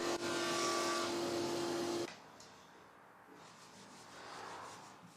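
A belt sander runs loudly on reclaimed pine boards for about two seconds, then cuts off, leaving quieter scraping and handling sounds on the wood.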